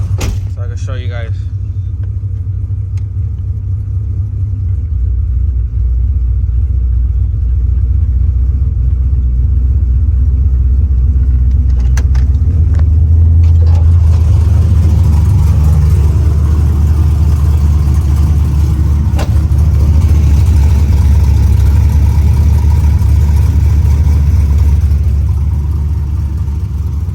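A 1994 OBS pickup truck fires up from a cold start and settles into a loud, deep rumbling idle nearby, rising briefly midway, with a person talking over it.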